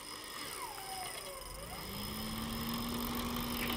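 A Toyota Land Cruiser FJ62 engine drones and rises in pitch as the truck slides through snow. Its hum is moderately distant and steady under wind-like noise.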